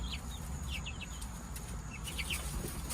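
Chicks in a new custom-made coop, faint high peeping calls scattered over steady low background noise.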